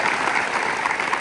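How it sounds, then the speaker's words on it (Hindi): Loud, dense group clapping at an Indian army physical training academy celebration, steady and close throughout the brief burst. "सभी लोग एक बार जोरदार ताली बजाओ"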